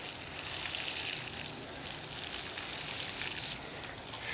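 Fish emulsion fertilizer solution poured from a container onto beet plants in a garden, a steady close hissing splash of liquid hitting leaves and soil that swells and eases slightly.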